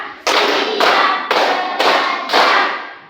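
Students in a classroom clap together to a count, four loud bursts of many hands evenly spaced, each with a sharp attack and brief fade.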